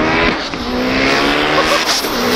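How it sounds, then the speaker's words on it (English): A tuned Mitsubishi Evo with 800+ all-wheel horsepower makes a rolling anti-lag pull, its engine roaring loud and continuous with rising pitch and crackling bursts, heard close outdoors. "Anti-lag, rolling anti-lag."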